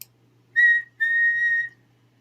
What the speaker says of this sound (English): he heard an unfamiliar whistle